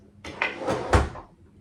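A drawer slides open or shut with a few close, woody knocks and scrapes in quick succession, loud and alone in a quiet room.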